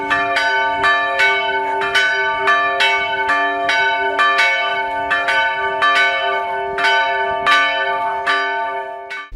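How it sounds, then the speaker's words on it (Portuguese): Two new church bells ring at the central facade of a parish church, struck in a steady, evenly spaced series of bright, resonant clangs that overlap and ring on, loud and close with no talk. "já tem 2 sinos novos na fachada central da igreja"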